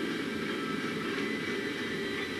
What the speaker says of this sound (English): Tram arriving at flight deck station.